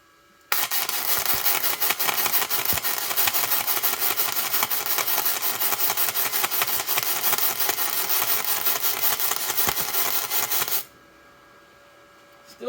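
An ArcCaptain MIG130 inverter welder laying a weld pass, a loud continuous crackling buzz that starts abruptly, holds steady for about ten seconds, then cuts off to near quiet.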